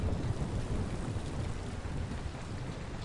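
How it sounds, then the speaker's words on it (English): A thunderstorm with heavy rain in the game Kynseed: dense, continuous downpour over a low rumbling roll of thunder, loud and steady throughout, with no one speaking. "Ooh, it's really storming."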